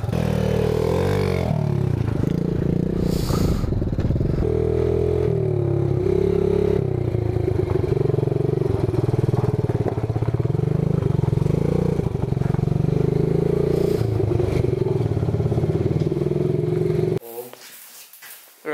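A Yamaha Moto 4 80cc ATV with badly worn tires races nearby, its small engine droning and revving continuously with rattling and scraping before it cuts off abruptly near the end.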